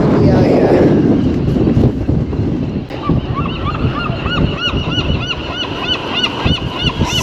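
Many seagulls calling over strong wind on an open, windy prison recreation yard at Alcatraz, with repeated short cries rising above steady wind rumble and a voice speaking near the start.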